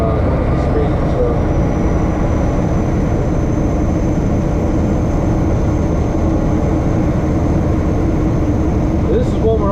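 Loaded truck's diesel engine droning as gears are dropped on a hill descent, a loud, steady low rumble filling the cab throughout, with someone talking over it.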